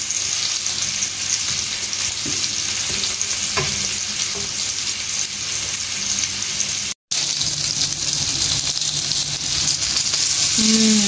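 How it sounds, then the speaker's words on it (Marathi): Fish sizzles steadily in a hot pan for a fish curry, a loud continuous crackling fry that runs without pause apart from one brief cut, with faint clinks of stirring. "फिश बरी फ्राय जावंक लागला."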